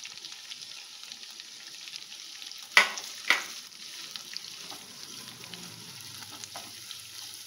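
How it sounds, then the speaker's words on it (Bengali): Chopped onion frying in a pan gives a faint, steady hiss, broken by two distinct close scrapes of a spatula and a few softer stirring touches. "এটাকেও একটু নাড়াচাড়া করে নরম করে নেব"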